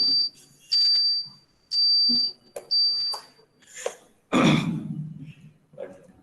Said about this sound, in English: It is continuously beeping for you.